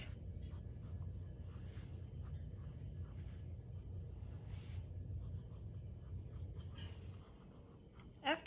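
Pencil scratching and sketching a sugar skull on paper, a soft continuous scraping with short strokes, close and quiet over a low room rumble, with faint breathy voice sounds near the end.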